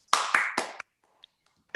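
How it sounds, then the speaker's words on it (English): A short burst of applause at a club meeting welcoming the meeting president: a few loud, close clapping bursts in quick succession, then near silence with a couple of faint taps. "with a loud round of applause"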